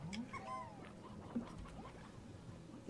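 A dog whimpers with a few high, rising whines and soft yips near the start, then fades under faint room noise indoors.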